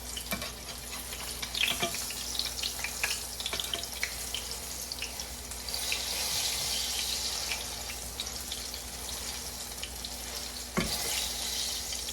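Banana fritters fry in hot oil with a continuous soft sizzling hiss and scattered pops and crackles. The frying stays moderately quiet throughout, with a brief swell partway through.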